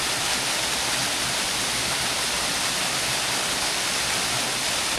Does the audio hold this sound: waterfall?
yes